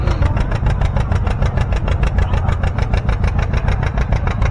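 A 1952 John Deere A tractor runs close and loud at a tractor pull, its engine pounding out a fast, even stream of firing pulses.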